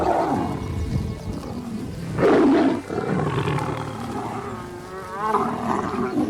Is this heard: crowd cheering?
no